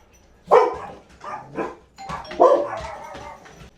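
Several dogs barking in a home kitchen while peanut butter blossom cookies are made, a burst of loud, close barks and yips in two clusters with short pauses between.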